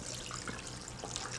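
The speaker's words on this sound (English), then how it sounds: "You can just pour in the chicken stock" Chicken stock is poured into a pot in a steady, close splashing stream that lasts the whole moment, with light gurgling variation and no voices.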